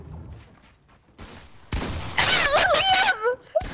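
Bursts of video game gunfire in Fortnite, a loud rapid volley shooting something down, mixed with excited shouting from players.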